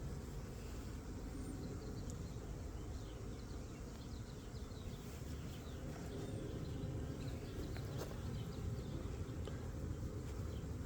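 A colony of honey bees hums continuously around open hive frames, the buzzing steady and enveloping for the full stretch, moderately quiet, with a few faint ticks and no speech.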